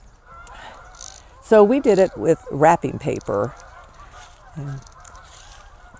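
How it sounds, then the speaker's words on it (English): A flock of geese honks loudly nearby in a quick burst of several brassy, overlapping calls, then one lone honk trails off. Someone speaks around the calls. "A whole flock of geese."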